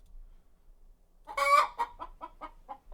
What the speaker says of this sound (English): That's a chicken.